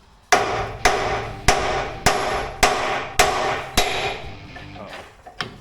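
Hammer striking a heated old skid steer attachment pin to knock it out, seven sharp ringing metal blows at a steady rhythm, close and loud, then a couple of lighter taps.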